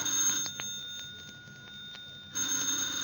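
An old-fashioned telephone ringing in a 1950s radio drama, two bursts of bright ringing separated by a quiet pause of about two seconds, heard clearly with faint ticking sounds in between.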